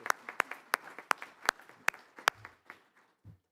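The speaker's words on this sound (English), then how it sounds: "let's give them a round of applause" Scattered applause from a small group at a college awards ceremony: sharp, fairly regular claps that soon thin out and fade into quiet.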